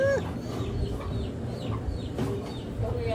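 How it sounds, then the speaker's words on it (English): Chickens cluck and squawk nearby in a busy, overlapping chorus, with occasional higher calls standing out over a steady outdoor background. "I'm trying to catch some chickens."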